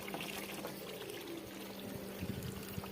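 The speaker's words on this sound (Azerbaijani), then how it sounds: "Bu bulaq təbii dağlardan axan bulaqdır. Buradan gəlir, buradan süzülür və gedir." Natural mountain spring water, ice-cold, trickles and splashes gently in a continuous low stream, quiet and steady, with no voices.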